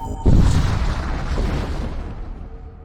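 A breach charge explosion in Void War hits abruptly with a loud, deep boom, then rolls into a long rumbling decay that fades over a couple of seconds.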